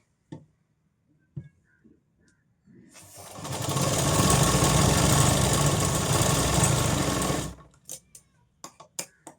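Sewing machine stitching a katori blouse runs steadily for about five seconds, loud and close, bracketed by faint handling clicks and taps before and after.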